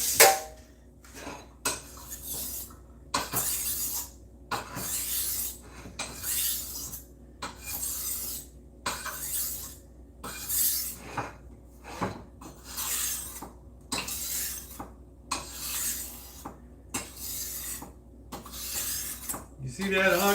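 A knife is stroked across the 1000 grit side of a whetstone in a steady series of close, raspy scraping passes, each about a second long with short pauses between.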